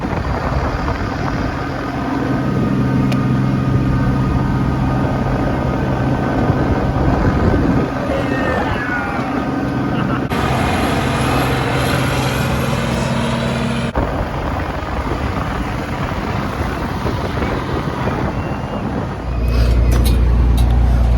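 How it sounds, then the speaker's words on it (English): Riding on top of a combine harvester through a corn maze at a ranch: a steady, loud engine drone and rumble with rattling machinery runs throughout, with wind buffeting and a heavier low thump near the end. "I can never get enough riding on top of a combine like that."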